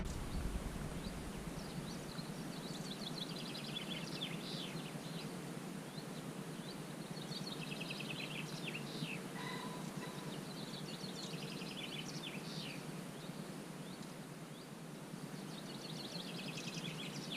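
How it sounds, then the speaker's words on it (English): Birds chirp and trill in scattered phrases over a quiet, steady outdoor hiss, faint and somewhat distant, with no voices. "It's a wonderful sound of bird song."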